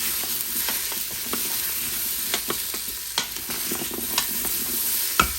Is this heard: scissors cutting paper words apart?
no